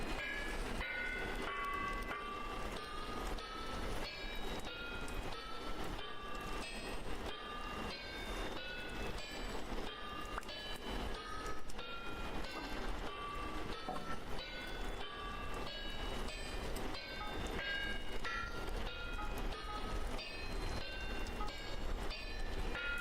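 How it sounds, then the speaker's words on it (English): Smithing steel plate in the video game Vintage Story produces a steady run of rapid metallic clanks over a constant background. "No, it's the sound of smithing."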